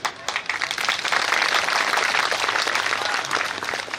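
Applause from a seated crowd welcoming guests at a Hindu yajna ceremony, a dense, steady burst of many hands clapping that swells and holds for a few seconds, close and loud.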